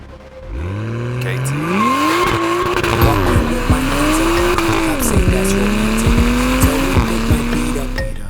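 Cars on the road rev aggressively and their tires squeal in long rising and falling howls, loud and close, with sharp engine bursts layered over a continuous rumble.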